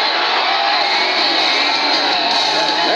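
Crowd at the NASCAR Pepsi 400 stock car race roars continuously, a dense wash of cheering and whoops from a large stadium audience, loud and steady throughout.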